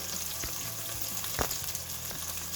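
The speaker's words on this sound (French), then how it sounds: "Et j'ai mis le poisson, je vais mélanger. Et là, j'ai mis mes petites tranchettes d'oignons." Fish and thin slices of onion fry in a pan with a steady, close sizzle, broken by a few soft scrapes and knocks as the mixture is stirred.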